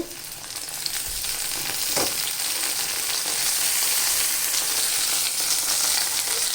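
Cleaned, washed prawns fry with browned onion pieces in a pan for a ridge gourd prawn curry, giving a loud, unbroken close-up sizzle with a brief stir or scrape near the start and no talking.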